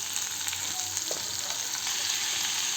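Potatoes frying in a pan with cumin seeds and salt, a soft steady hiss of sizzling oil with an occasional faint clink, quiet and unbroken.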